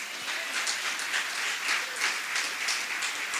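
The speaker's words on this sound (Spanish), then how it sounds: "Den un aplauso al Señor, hermano." Steady applause from a church congregation during an evangelist's sermon, a thick wash of many hands clapping at an even level with no speech on top.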